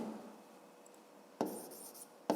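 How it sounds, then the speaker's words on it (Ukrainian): Pen strokes scratch on paper during a fifth-grade maths exercise, two quiet short bursts of writing separated by near silence. "Пишемо школу."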